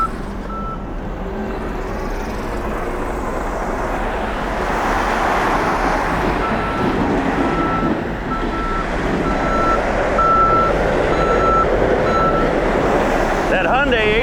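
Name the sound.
Hyundai HT100B loader with Blue Diamond nursery forks, reversing beeps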